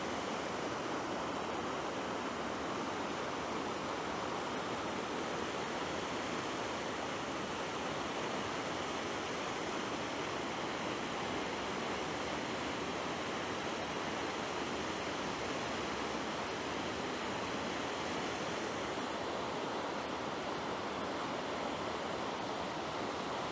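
Macun creek water rushes along a channel, with a smell of sewage noted at this spot; a steady, full, continuous flowing roar with no voices.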